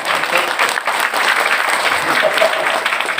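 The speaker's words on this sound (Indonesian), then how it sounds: "Tepuk tangan dong." Audience applause at a religious talk in Bumiayu, dense steady clapping with crowd noise throughout, loud and continuous, with voices faintly mixed in.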